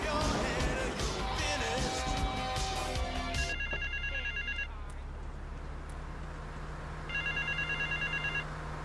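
A payphone in GTA III rings in two electronic trilling bursts separated by a pause, clear and close after a stretch of background sound.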